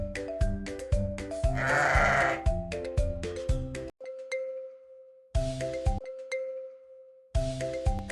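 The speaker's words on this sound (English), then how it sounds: "This is a sheep." A sheep lets out one wavering bleat, close and clear, over cheerful children's backing music with chiming notes.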